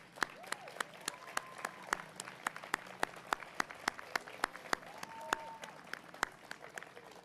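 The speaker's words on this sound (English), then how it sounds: "please stand up so we can all applaud you and thank you for what you do for our city" Sparse applause at a Troy State of the City event, where distinct individual claps ring out at an irregular rhythm over a hushed room, with faint murmuring and a brief tonal sweep in the background.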